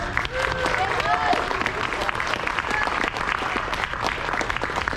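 Convention crowd applauding steadily, a dense wash of many hands clapping throughout with some cheers and scattered voices mixed in.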